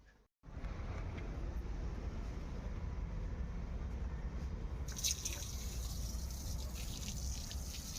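Water running steadily at a Shiva temple, a continuous broadband rush and trickle that stays loud and close throughout, with a brighter splashing patch near the end and no talking.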